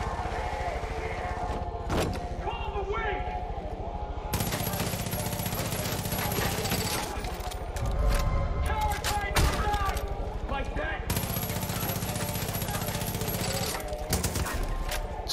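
Shotgun and other gunfire in Far Cry 5 during a hotel shootout, with repeated bursts of blasts and clattering shots under someone talking.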